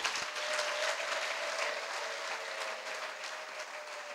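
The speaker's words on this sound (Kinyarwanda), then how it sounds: "Dukomere Imana amashyi menshi." A Pentecostal church congregation claps continuously, a dense, even wash of applause that holds steady and tapers only slightly, with no voices standing out.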